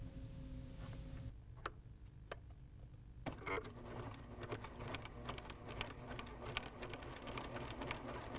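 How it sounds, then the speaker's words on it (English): A Pfaff sewing machine runs a decorative stitch over a cord laid on stabilized fabric, its needle clattering in a fast, steady, close rhythm after a few separate clicks at the start. "Lower the presser foot and sew."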